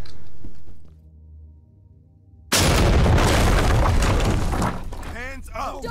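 A C2 breaching charge goes off in the tactical shooter Ready or Not: a quiet lull breaks into a sudden, loud blast with crackling debris, then voices shout over the settling noise.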